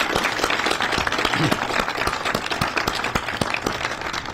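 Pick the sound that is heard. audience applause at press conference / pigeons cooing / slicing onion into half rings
audience applause at press conference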